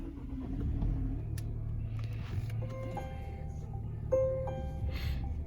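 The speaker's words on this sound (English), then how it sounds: "So we'll put our foot on the brake and start it up." A 2020 Volvo XC40 T5 AWD comes to life via push-button start, its engine catching and settling into a steady low idle rumble, with a brief rise in revs partway through, heard close from inside the cabin.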